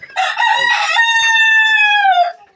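Brahma and Silver Cochin cross chickens, one loud, near rooster crow rising then holding a long drawn-out note, with a brief cluck-like opening; no voices.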